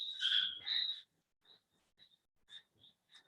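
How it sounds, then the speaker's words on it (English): Frogs croaking in a chorus, loud at first with two strong overlapping calls, then a string of shorter, quieter croaks spaced out over the next couple of seconds. "you have a chorus of frogs behind you croaking really loudly"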